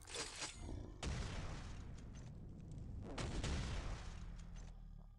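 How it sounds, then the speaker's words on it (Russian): Rocket and grenade explosions in the Quake shooter game, with two loud broadband bursts near the start and after three seconds over a dense, continuous wash of in-game firing and blast noise. "Словил ракету с гранатой."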